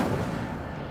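A fire spell cast in the video game Hogwarts Legacy bursts out as one loud, dense whoosh of flame that fills the whole moment and fades slightly toward the end.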